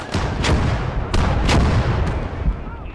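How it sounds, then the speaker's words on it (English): Artillery shelling on a World War II battlefield in Gates of Hell: Ostfront, with several heavy booms and blasts landing over a continuous rumble of battle, close and loud, no voices. "I'm being shelled"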